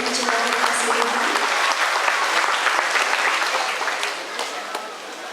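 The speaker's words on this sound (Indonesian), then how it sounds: "Sekali lagi boleh kita berikan tepuk tangan Bapak Ibu jemaat yang dikasihi Tuhan." At a Christmas service in Wonogiri, a congregation claps loudly in a thick, continuous burst that gradually thins out and quiets toward the end.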